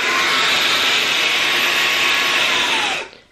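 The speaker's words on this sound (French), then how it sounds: "Tu passes l'aspirateur et quand tu sens que c'est pas assez humide, et ben t'en rajoutes." A wet vacuum cleaner runs continuously, its loud, steady motor whine and airy rush spraying water as it vacuums a floor, then winds down and stops at the end, with no talking.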